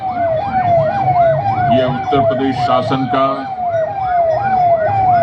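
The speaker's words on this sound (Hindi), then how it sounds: "निःशुल्क सेवा का एम्बुलेंस वाहन सलामी मंच के सामने से गुजर चुका है।" An ambulance siren at a Republic Day parade in Lucknow wails in steady, repeating rising-and-falling sweeps, loud and close, while someone talks over a public address system in the middle of the clip.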